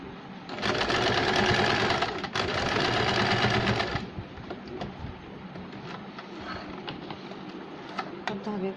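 A sewing machine stitches a saree fall in a fast, loud, even whir for a few seconds, pauses, runs again, then stops, leaving quieter handling clicks and rustles.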